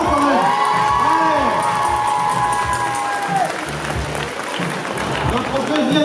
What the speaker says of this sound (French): Alors ça mérite quelques applaudissements quand même.